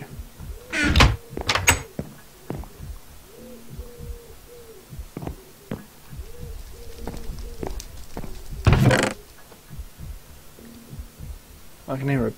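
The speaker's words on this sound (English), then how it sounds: "I can hear a pigeon, but I don't know if that's in game or not." Pigeon-like cooing in a horror video game setting, soft repeated coos under low ambient noise, broken by a few sharp knocks or footstep-like thumps.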